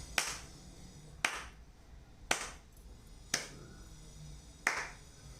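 Single sharp hand claps keeping count during an online yoga breathing session, five crisp claps spaced about a second apart, each ringing briefly in a quiet room.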